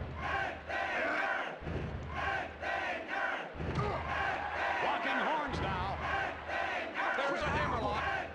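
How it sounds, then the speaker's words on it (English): Arena crowd chanting in the WWF Warzone wrestling video game, a loud, steady roar with rhythmic swells repeating across the whole stretch. "Just the crowd are chanting."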